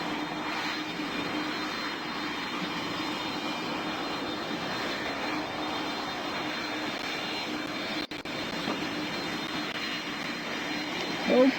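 Airbus A320 jet engine in the PTFS flight video game, a steady low droning hum held at an even, fairly quiet level, with a brief dip near the end.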